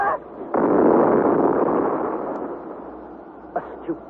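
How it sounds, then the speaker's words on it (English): A ball of fire bursts aboard a storm-tossed vessel in a hurricane: a sudden loud roaring blast that swells, then slowly fades, followed by two small pops near the end. "and then suddenly the ball of fire bursts"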